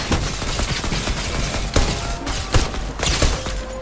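Gunfire in the video game Fortnite, a dense busy mix of several sharp shots scattered over a continuous clattering, mechanical game background, with no voices.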